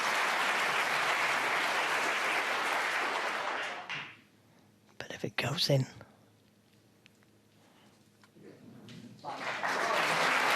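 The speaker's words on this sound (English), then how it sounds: "crowd on the other side of the partition, oblivious to what's going on here. Clapping, cheering, disturbing." At the 2024 World Snooker Championship, a crowd behind a partition breaks into loud applause and cheering. The noise falls away to a quiet stretch where a voice speaks, then the clapping swells again.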